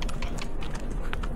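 Horse hooves clip-clop in a quick, regular rhythm during a horseback ride toward a rock formation in Ilocos Norte, close and distinct over rough outdoor noise.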